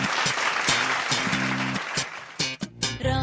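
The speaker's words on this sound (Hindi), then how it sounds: "तो जोरदार तालियां हो जाए आयुषी के लिए।" An audience claps for a dancer on a dance competition stage, a short loud burst of applause mixed with music and cheering, ending abruptly.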